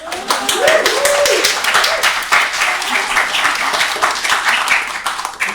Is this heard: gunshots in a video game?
no